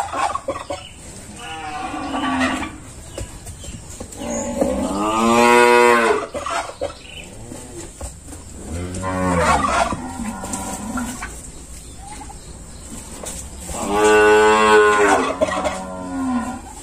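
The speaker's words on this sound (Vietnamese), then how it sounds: "Đây hình ảnh bò ha" Cattle moo repeatedly, several long lowing calls spaced out over a steady farm background, with a faint clucking of chickens at times; cows are at a Ben Tre livestock farm.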